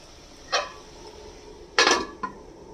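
A lid clatters onto a pan of eggplant, onion and tomatoes, two sharp metallic clanks close together with a smaller clink after, close and clear over faint background hiss.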